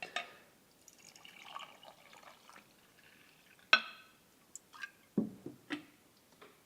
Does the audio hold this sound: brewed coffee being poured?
yes